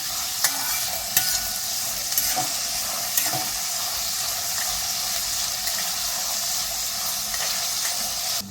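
Onions fry in a pan and are stirred until soft, a steady close sizzle with repeated spatula scrapes and taps against the pan, and no talking.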